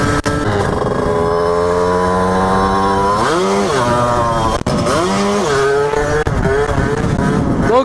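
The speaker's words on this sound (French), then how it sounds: "maintenant on va wheeling debout" Motorcycle held in a standing wheelie, its engine droning loud and steady throughout with a few rising and falling rev swells partway through, close to the listener.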